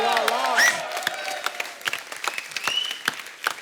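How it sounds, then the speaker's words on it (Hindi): Studio audience of a Hindi comedy talk show applauding the guests, a burst of clapping with scattered louder claps, a brief voice or tonal sound near the start, then thinning applause continuing to the end. "एक बार जोरदार तालियां हमारे मेहमानों के लिए।"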